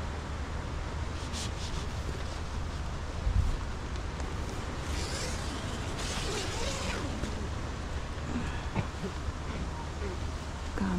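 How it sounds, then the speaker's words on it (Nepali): Steady wind blowing across a beach campsite at Pui O in Hong Kong in the early morning, a continuous broadband rush with gusty swells, and a few faint knocks and rattles along with soft distant voices. "हावा यस्तो चलिरहेछ रातभरि पनि हावा चल्यो"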